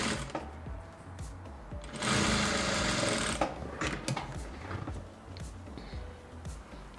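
A sewing machine stitches the armhole of an off-shoulder cowl-neck dress in one quick, whirring run of about a second and a half, then quieter handling noises follow nearby.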